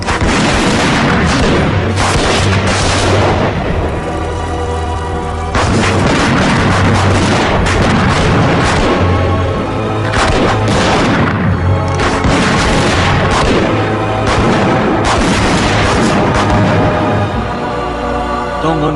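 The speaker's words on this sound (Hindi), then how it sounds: "सबको उड़ा दो।" Heavy explosions and booming blasts from a Hindi-dubbed Hollywood action film fill the scene, a loud continuous barrage of repeated detonations and rumbling bursts with no talk.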